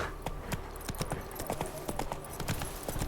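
Horse hooves clip-clop in a steady trot from Roach, Geralt's mount in The Witcher 3 game, a brisk repeated rhythm near and clear over a low ambient bed.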